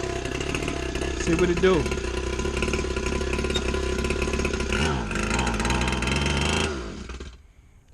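A small 49cc red dirt bike engine buzzes loudly and raspily up close, revving briefly before holding a steady high whine, then cutting off and fading to silence, with a short spoken remark partway through.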